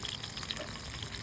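Potatoes frying in a little oil in a hot pan, a steady soft sizzle with faint crackles running evenly throughout, no voices.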